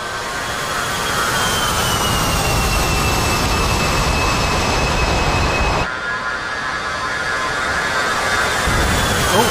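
Jet engines of an aircraft heard from inside the cockpit in the DCS FC3 flight simulator game: a steady, loud roar with a high whine running throughout, shifting slightly in tone about two-thirds of the way through, with no voices.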